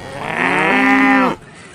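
A cartoon cow gives one loud, drawn-out moo that holds steady for over a second and then cuts off abruptly.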